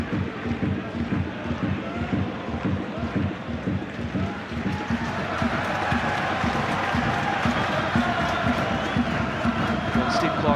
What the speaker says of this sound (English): And the home crowd showing their appreciation for the Congolese midfielder.